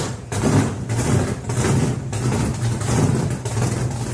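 A 1970 Chevy Nova's engine revs steadily and loudly at close range, its low rumble swelling and easing in repeated pulses over a few seconds, with no talking.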